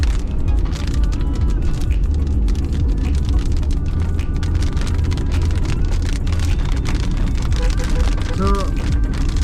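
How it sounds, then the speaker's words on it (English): Heavy pouring rain drums steadily on a car during a drive in Assam in the rainy season, a dense continuous roar with road rumble underneath and a brief voice near the end. "It started pouring."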